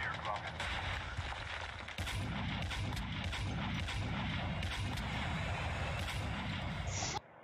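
Sniper rifle gunfire in a battle royale video game: a dense barrage of shots and bursts runs continuously under a busy game soundscape, loud and close.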